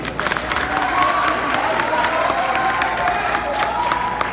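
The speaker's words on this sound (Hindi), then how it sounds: "एक बार जोरदार ताली बजाइए" A large crowd at a youth convention in Muzaffarpur applauds loudly, continuous dense clapping with cheering and shouts mixed in, holding strong and steady for several seconds.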